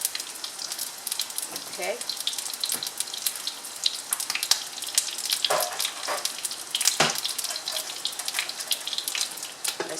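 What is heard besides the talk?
eggplant frying skin side down in a pan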